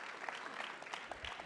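Faint applause from an audience at the Pima Community College Athletics Hall of Fame 2023 ceremony, a short, soft patter of clapping heard from a distance.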